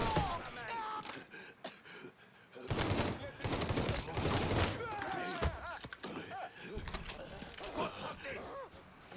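Gunfire in the Mafia 3 video game: rapid bursts of shots and clattering mechanical action, mixed with in-game voices shouting.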